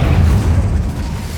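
Incendio fire spell cast in Hogwarts Legacy, a loud deep booming burst with a rumbling low-end whoosh that fades slightly over about a second and a half, with no voices.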